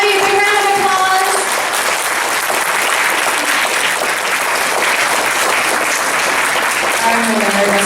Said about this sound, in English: So everyone, please give Ivy a big round of applause.